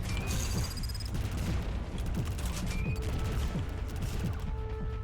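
Dense, continuous gunfire fills the game Nine Rounds Rapid as bullets bounce off raised shields, a loud, steady barrage of shots with high metallic ricochet pings scattered on top.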